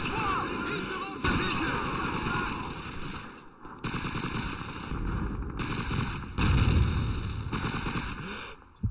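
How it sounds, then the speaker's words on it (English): Call of Duty 2 battle gunfire, including machine-gun and sniper-rifle fire, rattles in dense bursts with sharp cracks and heavy booms. The shots come in several loud waves, and a quiet voice can be heard now and then. "Now I can get my sniper rifle, and now I can shoot that stupid machine gun."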